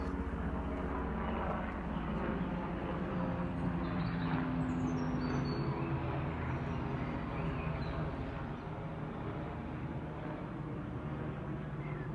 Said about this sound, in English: Oh, can you hear the aeroplane? Or maybe a helicopter?